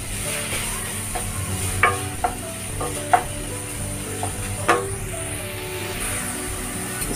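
Chicken pieces browning in hot oil in a pan, a steady sizzle with a few sharp scraping clicks as they are stirred and broken up, close and fairly quiet with no talking.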